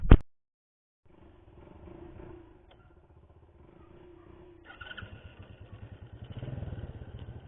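A Kadiri Chunlan 125 motorcycle being test run from a cold start after two years in a garage, its engine puttering unevenly at idle and then rising into a louder, rougher rev near the end.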